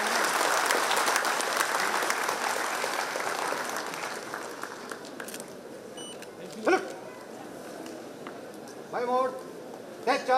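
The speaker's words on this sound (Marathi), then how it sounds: "सर्वांनी जोरदार टाळ्या वाजवाव्यात" A crowd applauds a retiring police officer at a Mumbai Police retirement ceremony. The clapping is loud at first, then thins and fades over several seconds, and a voice speaks briefly near the end.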